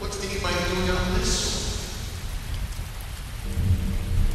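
A storm in a video game, with steady rain hissing under a low thunder rumble and a brighter gust of rain partway through, all at an even, fairly loud level.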